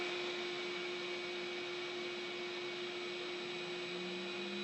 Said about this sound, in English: it starts its first cut once the spindle's at speed